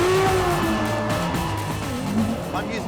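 A Ferrari F12tdf drifts sideways in third gear at quarter throttle, its engine note wavering and rising while tires scrub and squeal, with a voice talking over the car.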